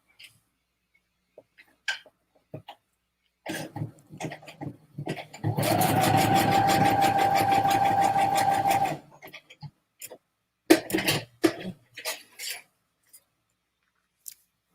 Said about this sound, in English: I'm gonna sew here while she's over there.